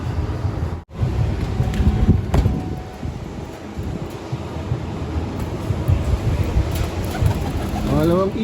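A young racing pigeon flutters in against steady wind noise outdoors, arriving from a training release, with wingbeats and soft bird sounds near the microphone and no voices.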